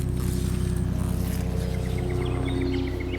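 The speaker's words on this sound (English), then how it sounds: "Pardon the plane coming over" Airplane droning overhead above a homestead vegetable garden, a low steady rumble with faint bird chirps scattered above it, gradually easing slightly toward the end, no voices.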